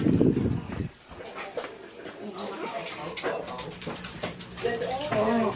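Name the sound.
dogs whining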